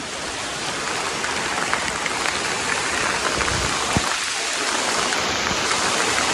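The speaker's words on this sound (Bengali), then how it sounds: "গাইস দেখো, প্রচন্ড বৃষ্টি হচ্ছে" Heavy rain pours down in a dense, steady hiss near Tindharia in the hills, with a brief louder thud partway through and no voices.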